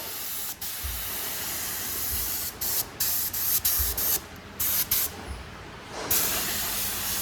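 A paint spray gun lays down a last coat of thinned red paint on a Massey tractor part, a loud, close, continuous hiss broken by several short trigger releases.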